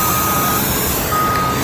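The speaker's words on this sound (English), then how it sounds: "Oh, the bus is here." A city bus arrives on a street, loud and close, with engine rumble, a steady reversing beep and traffic noise throughout.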